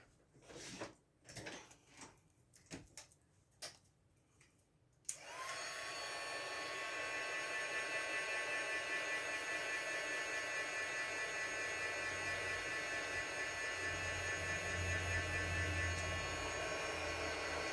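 After several sharp taps and knocks, a hair dryer switches on and blows with a constant loud whirring roar, drying craft glue for a fabric rose project.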